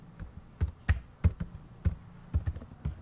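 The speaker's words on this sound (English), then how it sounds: "you go to your Asaerp search bar and type quotation" Quick, light keystrokes on a computer keyboard as a word is typed into a search bar, about a dozen close, crisp taps in an uneven rhythm over a quiet background.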